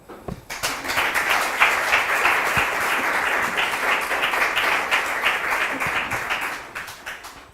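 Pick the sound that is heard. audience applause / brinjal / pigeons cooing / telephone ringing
audience applause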